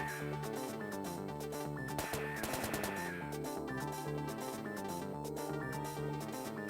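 Rapid gunshot bursts ring out in the Picross DS theme, layered over looping game music that keeps playing steadily underneath.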